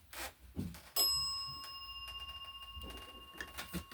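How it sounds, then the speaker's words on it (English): A single bell is struck once in a quiet room during a paranormal investigation in Maine, a bright ringing tone that decays slowly over a few seconds, with faint thumps before and after. "If you want me to leave that tripod with the camera there, ring the bell once for me."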